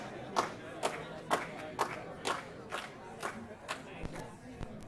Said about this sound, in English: Get some clapping involved.